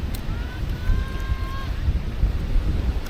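Strong wind at a La Union beach buffeting the microphone, low rumbling gusts with a faint whistling tone partway through.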